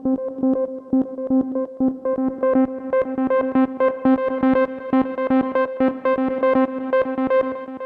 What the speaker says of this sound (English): Let's try with the Max for Live arpeggiator.